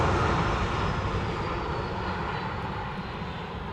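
Airplane on the runway at Dallas Love Field, a loud, steady engine roar close by that slowly fades as it rolls away, with no talking.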